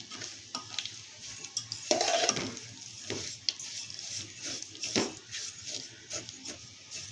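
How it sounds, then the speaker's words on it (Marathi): Cashews and almonds fry in ghee in a pan, giving a steady soft sizzle with faint stirring scrapes throughout, and no voices over it. "आता आपण हे काजू बदाम टाकूया म्हणजे तुपात मस्त तळले जातील"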